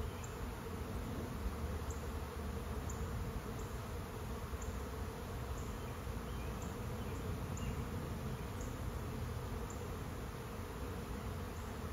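A swarm of honeybees moving into a tree gives a steady, dense buzzing hum that holds throughout, with no talk.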